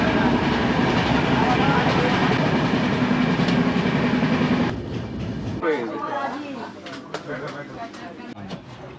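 Steady rumble and rattle of a running train heard from inside a carriage on a special train journey near Velapur junction, loud and continuous for the first half before easing, with voices talking and faint bird calls.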